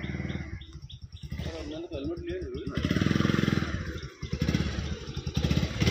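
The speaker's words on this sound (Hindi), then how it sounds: "बाइक लेके जा रहा हूँ बाइक पूरा रेडी हो चुका है" A motorcycle engine runs nearby with a steady rumble near the India–Bangladesh border, mixed with people talking and some birds chirping in the background.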